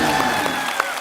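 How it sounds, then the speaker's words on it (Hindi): Brief burst of studio audience applause on a TV comedy talk show set, dense clapping heard alone for about a second. "बस अब जोरदार तालियां हो जाए मेरे।"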